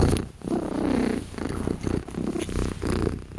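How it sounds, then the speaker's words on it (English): A cat purrs loudly and close up in a continuous rumbling, rhythmic purr with steady pulses and no talking. "big purr"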